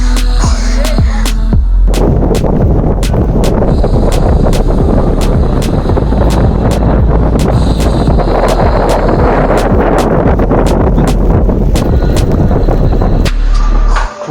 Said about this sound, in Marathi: पाऊस चालूच आहे आणि त्याच्यासोबत वारा खूप जोरात वारा सुटला आहे